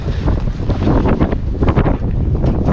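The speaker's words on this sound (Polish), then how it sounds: "Wiatr wieje i to ostre." Strong, sharp wind buffets the microphone in loud, gusty bursts at a house building site, roaring steadily with no voices.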